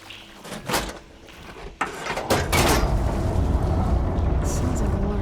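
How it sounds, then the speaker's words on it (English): Machinery valve in Horizon Forbidden West switching the water flow: a couple of heavy mechanical clunks give way to a loud, sustained rushing of water that fills the rest of the clip. "Sounds like the water's switched."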